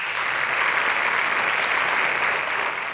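Steady, dense applause from an audience at a mathematics contest, loud and even from start to finish with no talking over it.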